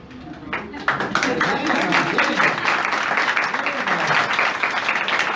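Church congregation breaks into sustained applause, a steady wash of clapping mixed with voices calling out and talking throughout.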